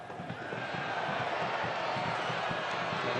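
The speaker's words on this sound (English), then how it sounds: "And the crowd reacting to what they thought should have been a foul." A stadium crowd at a Memphis 901 FC versus Louisville City FC soccer match reacts to a possible foul, a faint, distant, continuous roar of many voices with bursts of chanting and shouting.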